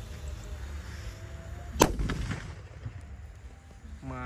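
A Power Extender firecracker goes off outdoors at dusk during Ramadan festivities, one sharp loud crack midway followed by a fading crackle and echo, with a faint rising whistle near the end.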